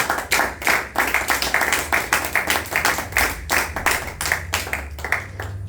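A church congregation claps in a steady, rhythmic beat, a dense run of sharp hand claps repeating evenly throughout with no talking over it.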